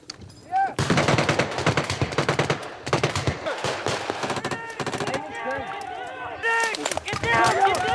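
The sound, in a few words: machine gun firing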